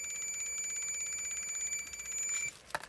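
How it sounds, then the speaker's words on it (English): Dense, rapid ticking from a Ukrainian IPA.01 Geiger counter that is exposed to strontium-90, heard up close alongside a sustained high-pitched electronic tone that cuts off near the end. "And you can hear it ticks as well."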